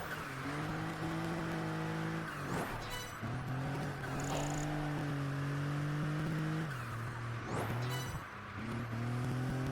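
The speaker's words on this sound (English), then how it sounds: "Car I'm using. A lovely, rough CTR Yellowbird." Engine of a RUF CTR Yellowbird in Project Gotham Racing 4 on Xbox 360 revs steadily and loud up close, with sharp gear-change dips, tire squeal and brief skids over about ten seconds.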